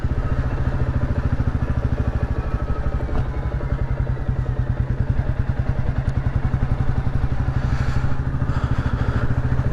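A Royal Enfield Classic 350 motorcycle is ridden through North Berwick, its single-cylinder engine thumping in a steady, loud, even beat with constant road and wind noise throughout.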